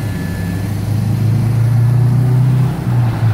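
A 2004 Mitsubishi Caterpillar forklift rated for 5,000 lb runs close by with a steady, loud engine drone that swells slightly in the middle and has no talk over it.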